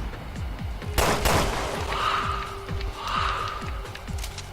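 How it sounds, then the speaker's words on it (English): Rapid machine gun bursts fire close and loud in Resident Evil: Revelations 2 on PS4, with a steady stream of repeated shots and a few heavier blasts layered over game ambience. "I think it's a machine gun I've got fire on"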